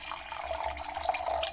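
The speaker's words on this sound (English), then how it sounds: "So now you can add some water to it" Water pours steadily into a homemade tick repellent spray mixture, a brief close splashing trickle with no voices.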